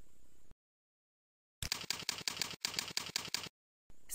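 Rapid bursts of close computer keyboard typing, a quick run of crisp key clicks in two clusters separated by silence.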